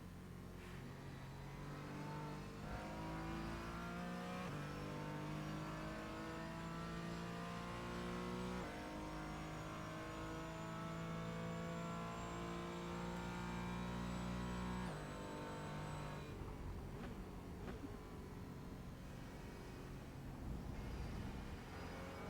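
A Porsche Cayman engine on the Silverstone International circuit, rising and falling through gear changes with sustained high revs and steady in-car drone for over twenty seconds, no talk.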